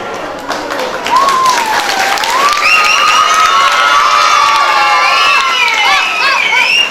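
Children cheering and shouting joyfully at a Pongal celebration prize-giving, a loud, continuous crowd roar with rising and falling high-pitched shouts and some clapping underneath.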